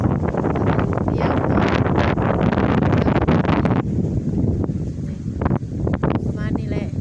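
Cold wind gusts hard across an open rice field near a hut with torn corrugated metal sheeting, roaring and buffeting loudly and close, with a person talking through it.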